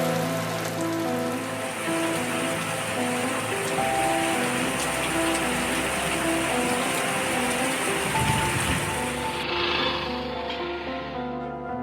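Heavy rain pours steadily during flooding in Andhra Pradesh, a dense, constant hiss of water on surfaces from start to finish, with a low rumble of traffic or machinery underneath and no voices.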